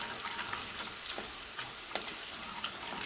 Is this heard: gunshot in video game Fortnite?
no